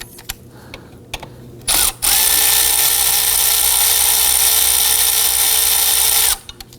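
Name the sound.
ratchet with 12mm socket loosening belt tensioner adjuster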